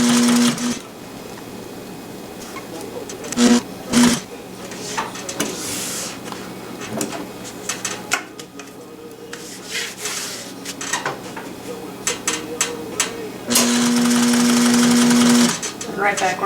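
A sewing machine stitches a tactical dump pouch in bursts, with short runs near the start and a longer steady run near the end, pausing in between amid handling noise and occasional talk.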